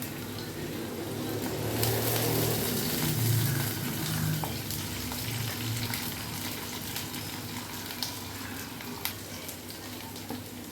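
Ginger, garlic and curry leaves fry steadily in a pan for a Kerala-style squid curry. The sizzle is loud and close, with occasional clicks of stirring.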